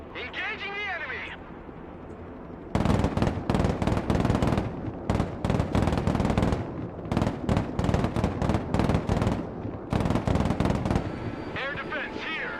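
Heavy machine gun fire in the Broken Arrow war game, loud rapid bursts in repeated volleys over about ten seconds, with short radio-style voice chatter before and after.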